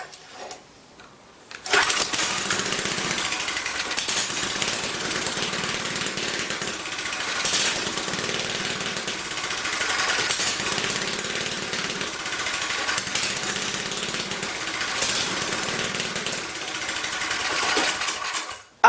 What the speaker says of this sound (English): I can now try for a first start of the engine